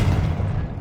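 A Confringo blasting spell explodes in Hogwarts Legacy, a single deep, loud boom that rumbles and fades over under a second.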